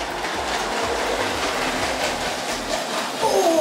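A Lego toy train runs along its track with a steady, close rattling and clatter that goes on throughout, picking up slightly at the end.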